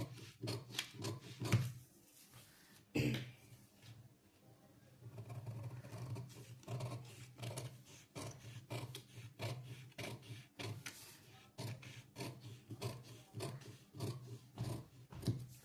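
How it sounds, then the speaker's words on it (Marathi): Scissors cut through cloth for a blouse katori piece, producing a steady series of quiet, close rasping snips and rubbing strokes in a regular rhythm, with a brief louder knock partway through. "अशा प्रकारे व्यवस्थित कटोरी कापून घ्यायचा आहे"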